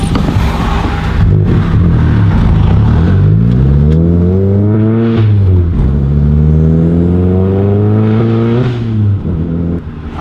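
A Volkswagen Mk7 GTI fitted with a BFI Stage 4 clutch kit accelerates hard while driving, its engine revving up loudly through several rising pulls with brief drops between gear changes, heard close from inside the car.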